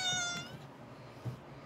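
A house cat gives a single short, faint meow at the very start, followed by quiet room tone.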